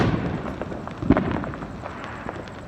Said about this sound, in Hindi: चारों ओर गाइस पटाखे पटाखे हैं